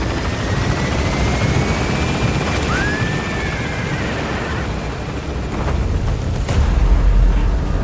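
A helicopter in Metal Gear Solid V: The Phantom Pain lifts off, its rotor thudding loudly and steadily, with a rising whine over it and a deeper rumble swelling near the end.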